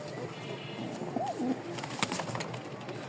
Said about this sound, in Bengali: এখানে দুই জোড়া কবুতর আছে